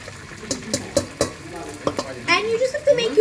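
Cold water is poured into a cup in a series of close splashing, gurgling bursts with small clinks, growing busier toward the end.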